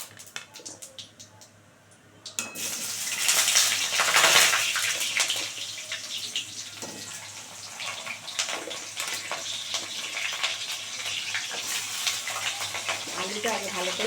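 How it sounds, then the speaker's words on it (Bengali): Potatoes hit hot oil seasoned with cumin seeds and bay leaf, setting off a loud, steady sizzle and bubbling that swells after a quiet start and carries on throughout, with a spoon stirring now and then. "আলুটা আগে ভালো করে ভেজে নেবো লাল করে।"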